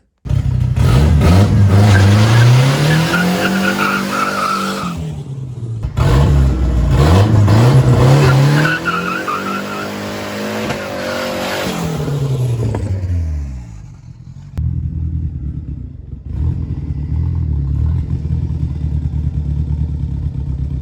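A car doing a burnout revs hard in two long high-pitched surges with clattering, then drops to a lower idle rumble.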